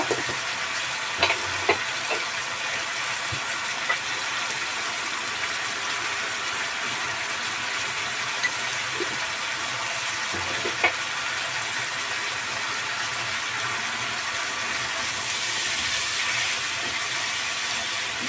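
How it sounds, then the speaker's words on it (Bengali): Chili powder sizzles in hot oil for a spicy egg curry, a steady dense hiss with scattered spoon clicks and scrapes, swelling slightly louder near the end. "দেখুন তেল ছেড়ে দিয়েছে, দিচ্ছি মরিচের গুঁড়া খুব সামান্য"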